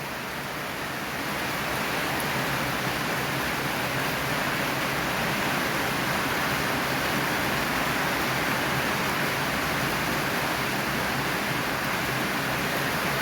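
A rain shower falls outdoors while urad beans are drying. It builds in the first second into a dense, loud, unbroken hiss that stays even throughout.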